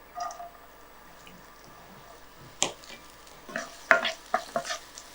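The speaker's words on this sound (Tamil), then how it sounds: "அந்த எண்ணெய் சூடானதுக்கு பிறகு நம்ம சின்னதாக நறுக்கி வச்சிருக்கிற இந்த வெங்காயம்" Finely chopped onion is added to hot oil for Bihar chicken rice, giving a soft sizzle with scattered crackles and stirring scrapes that grow busier near the end, close by and with no talking.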